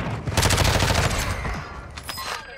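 Lockwood 300 shotgun fire in Warzone 2, a loud burst of dense, overlapping gunshots filling the first second and a half, followed by scattered sharper reports and game effects fading into the background.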